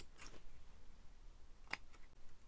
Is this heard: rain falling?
no